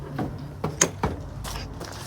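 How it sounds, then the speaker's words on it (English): Entry door of a 2022 Rockwood Signature 8324SB travel trailer being unlocked and pushed open, a few sharp clicks and clunks of latch and deadbolt spaced over two seconds, close and fairly quiet. "Let me see if I can go out this door."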